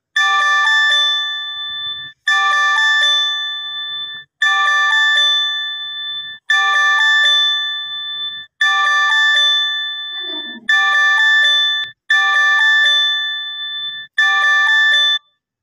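Earthquake alert tone sounding from a mobile phone in Pakistan: a loud, bright electronic chime that repeats in about eight bursts of roughly two seconds each, separated by short gaps, with no talking.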